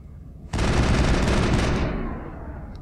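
Sustained rapid automatic gunfire from the Mass Effect video game bursts in loudly after a brief quiet lead-in, hammering continuously for over a second before tapering into a lingering echo.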